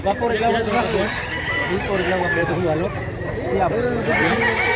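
Gamefowl chickens, including a young stag rooster, crow and cluck repeatedly at a rooster market in Mantalungon, Barili, Cebu, with layered overlapping calls under steady men's chatter.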